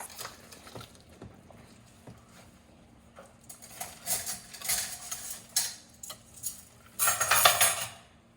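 Mashed potatoes with butter and buttermilk stirred in a pot, giving soft scraping and clinking of a utensil against the pot, quiet at first, then growing into louder, irregular bursts of clatter near the end.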